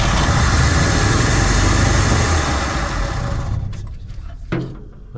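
A 1972 Chevrolet C20 pickup engine runs loudly with a rough, low rumble for several seconds, then falters and dies away toward silence, with a brief faint sputter near the end as it struggles to idle.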